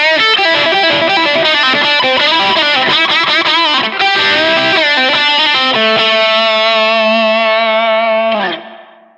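A fast final solo run on a distorted electric guitar with chorus-like effects: rapid bright notes tumble loudly and steadily, then settle into a held, sustained note that rings out before being cut off.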